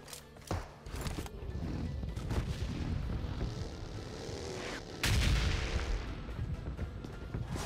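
Gunfire in the battle royale mobile game PUBG Mobile, a string of muffled booming shots and thuds, some distant and some nearer, with a heavier blast near the end.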